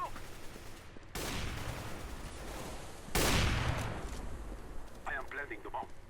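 Gunfire in CS:GO, two loud bursts of automatic rifle fire with a dense rattling spray, the second louder, then a few short metallic clicks and faint game effects.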